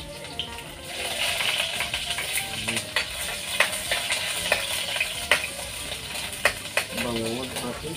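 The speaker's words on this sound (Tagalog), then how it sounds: "So, mainit ng ating kawali. Lagyan na natin ang sibuyas." Onions fry in a hot pan, with a soft steady sizzle and sharp clinks of a utensil stirring against the metal, fairly quiet and close.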